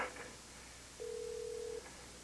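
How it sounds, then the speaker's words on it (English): A telephone call goes unanswered, heard as a single steady electronic ringback tone lasting under a second, faint and alone after a brief earlier blip. "Pick up the phone, Courtney."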